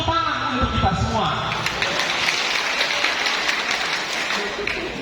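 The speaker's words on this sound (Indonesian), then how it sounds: "Tepuk tangan untuk kita semua." Audience applause at an Indonesian teacher-training learning festival, a steady dense wash of clapping filling the whole stretch, with a voice speaking faintly over the start.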